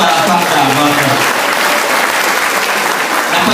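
Applause from a mostly female audience at a product presentation, a steady patter of many hands clapping with a voice talking over it, easing slightly toward the end.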